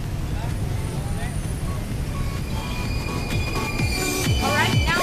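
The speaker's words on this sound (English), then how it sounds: "now I'm inside the Jakarta Kota train station" Inside Jakarta Kota train station, a dense rumble of trains and rail traffic fills the space, with metal wheel squeals rising near the end and crowd chatter beneath.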